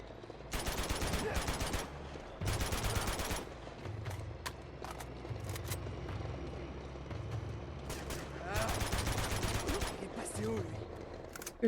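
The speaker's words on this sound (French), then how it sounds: "l'autre il me gonfle, il me tire dessus pendant que je me fais taper" Enemy gunfire in the action game Uncharted 2: rapid bursts of automatic weapon fire come in loud clusters with scattered single shots in between, while a player talks over the action.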